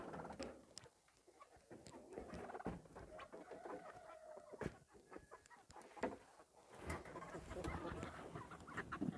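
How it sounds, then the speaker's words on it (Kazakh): Chickens cluck inside a small farmyard coop, a busy mix of short clucks and calls at moderate distance, overlapping continuously with some louder bursts and no talk. "Міне мынау тауық қора."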